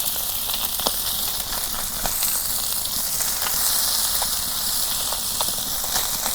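Tilapia fish frying in hot oil in a home kitchen: a loud, continuous bright sizzle and hiss with scattered sharp crackles and pops spread throughout, close and unbroken.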